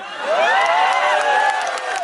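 A large crowd at a political speech bursts into loud cheering and whooping mixed with clapping, a sustained roar of many voices swelling close and full.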